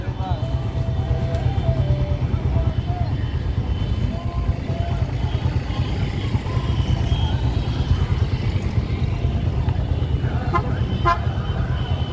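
Motorcycles ride along in a road procession, their engines a continuous low putter with a horn tooting briefly near the start, and people talk and call out over the traffic.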